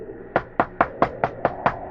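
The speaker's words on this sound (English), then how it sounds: "The man knocked on the door" Seven evenly spaced knocks on a wooden door, firm and close, with no voices.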